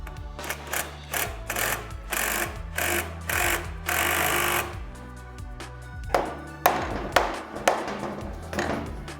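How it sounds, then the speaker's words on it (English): An impact gun tightens the center rod of a crankcase splitter tool on dirt bike engine cases, firing in repeated short rattling bursts, stopping and starting several times, close and loud, with a longer run in the middle. "take your impact gun and we're going to tighten down on this rod in the center"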